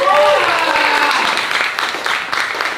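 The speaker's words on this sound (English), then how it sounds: "One more round of applause." An audience at an event on transforming child well-being in California breaks into loud applause, a dense burst of clapping that tapers slightly over a few seconds, with a few voices mixed in.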